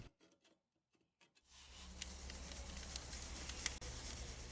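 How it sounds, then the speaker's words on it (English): Steady rasping scrape of a hacksaw and files roughening the steel tang of a hook-knife blade, running continuously after a few faint scuffs and quiet gaps, close and fairly loud. "I'm just going to scuff up the tang of the blade with a hacksaw and files"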